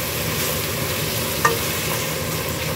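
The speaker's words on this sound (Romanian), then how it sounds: "Ceapa s-a călit bine." Onions sauté in a pan for a Romanian stew, a dense, even sizzle holding steady throughout at close range, with one small clink near the middle.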